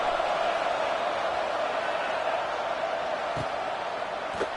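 A college football stadium crowd in a video game makes a steady, dense roar of distant voices with no clear peaks, constant and moderately loud throughout.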